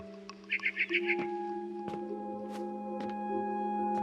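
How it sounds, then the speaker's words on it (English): Barn swallow chirping outside a window in the video game What Remains of Edith Finch: a quick burst of bright rapid chirps early, then scattered soft clicks over a steady low ambient hum. "Then I heard chirping outside my window."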